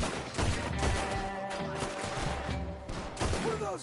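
Gunfire in Red Dead Redemption 2, a dense, continuous clatter of overlapping shots at moderate distance, steady throughout under a busy game soundscape.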